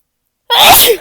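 A single loud, close sneeze bursts out suddenly after a moment of silence.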